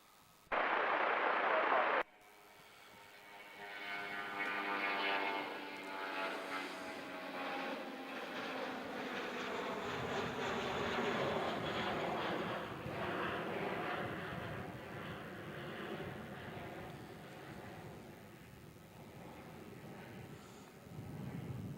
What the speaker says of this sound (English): Nice early takeoff there by the Jetstar, thanks in part probably to taking off from a longer holding point